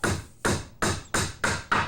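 Six sharp, evenly spaced hammer blows drive small hand-carved wooden pegs into a mortise and tenon window corner joint, each strike crisp and close with a brief ringing decay.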